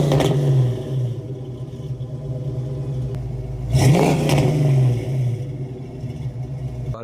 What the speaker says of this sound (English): we're doing a sound clip because everybody's going to hear how this car sounds